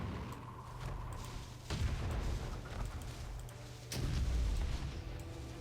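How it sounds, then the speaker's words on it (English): Artillery blasts of curveball ammunition in World of Warcraft: Battle for Azeroth, Nazmir in Zandalar, come as two heavy booming impacts over a steady rumbling game-ambience bed, the second near four seconds and slightly louder. "To blast the area using special curveball ammunition"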